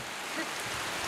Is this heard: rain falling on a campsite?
yes